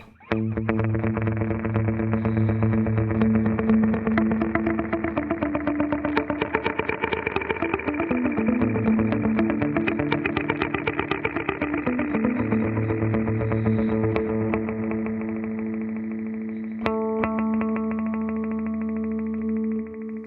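An electric guitar runs through a Fractal FX8 dotted-eighth delay, giving distorted, rhythmic notes with echoing repeats. The phrases pitch-bend and overlap for about twenty seconds, loud and alone, with a sustained chord ringing near the end.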